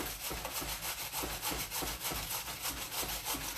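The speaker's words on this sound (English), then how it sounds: "We're gonna grate the cucumber fast as I can." Cucumber being grated quickly on a grater, a continuous rhythmic rasping scrape of steady back-and-forth strokes, close and fairly quiet with no talking.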